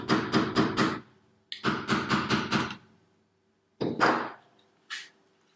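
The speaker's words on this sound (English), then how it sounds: "I'm going to hammer that down here really quick." Quick bursts of hammer blows flattening a laser-cut gaming stand, four or five sharp knocks in a row, repeated twice, then a few single strikes after pauses.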